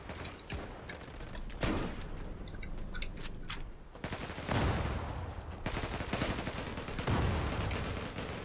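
Video game gunfire in rapid bursts, sharp cracking shots and a few louder blasts scattered across a busy, close mix of in-game effects.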